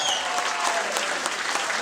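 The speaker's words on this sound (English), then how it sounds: "let's give a round of applause" Steady, dense applause from a crowd, many hands clapping continuously throughout at a fairly loud level.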